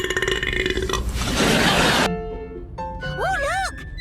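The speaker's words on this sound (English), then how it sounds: "Super Burps!" A loud, drawn-out burp from a cartoon character rumbles for a couple of seconds, followed by sung and warbling voice sounds.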